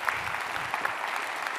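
Keynote audience at Cisco Live in Melbourne breaking into steady, dense applause, a broad wash of many hands clapping continuously without pause.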